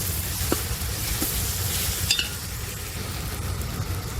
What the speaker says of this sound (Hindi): अभी अदरक लहसुन डालेंगे और उसकी कच्ची स्मेल जाने तक इसको अच्छे से भूनेंगे